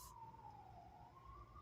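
Emergency vehicle siren in New York City wailing in the background with a slow, sweeping pitch, steady and moderately distant over low traffic rumble, no talking.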